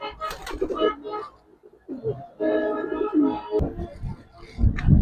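Female Giribaz pigeon cooing in soft repeated bursts at close range, with someone talking over and between the calls.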